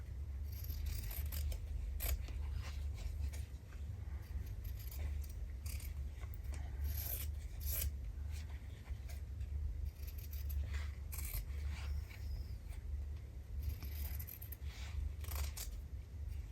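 Scissors snip repeatedly through fabric and printed paper during a slow-stitching Christmas bunting craft, crisp close cuts in irregular bursts over a steady low background hum.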